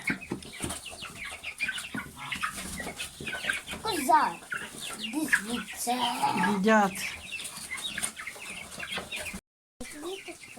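Broiler hens cluck and chatter close by at feeding time, with busy overlapping calls and a brief flutter, while a person speaks over them.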